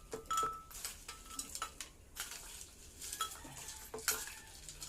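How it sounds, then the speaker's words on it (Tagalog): Ice being added to a homemade watermelon shake, with a series of close, sharp clinks and knocks against the container, spaced irregularly across the moment with no talking. "Lagyan natin ng ice."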